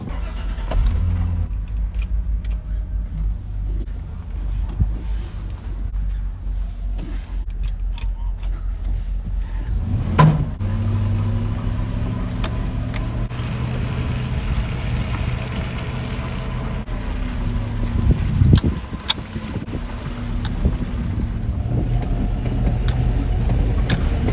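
An old pickup truck's engine starts and settles into a steady idle on a farm by a barn, a low continuous rumble with a sharper bump near the middle, heard alone without talk.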